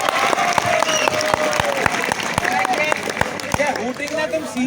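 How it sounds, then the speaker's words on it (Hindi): An audience at a campus event claps to welcome a guest, a dense patter with a few sharp individual claps, while a voice talks over the applause throughout. "A big round of applause to sir."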